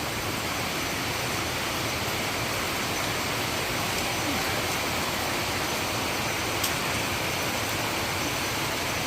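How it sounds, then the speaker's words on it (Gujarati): Steady, even rain falls in Navsari, a dense unbroken hiss that continues without pause throughout and stays at the same level from start to finish. "જો નવસારીમાં વરસાદ છે ને ચાલુ જ હોય"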